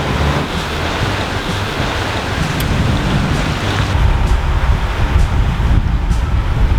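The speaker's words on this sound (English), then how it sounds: "The swell is quite big, so we're just motoring" A sailboat motors through a big ocean swell with little wind, a constant loud wash of water and engine rumble with wind buffeting the microphone and no talk.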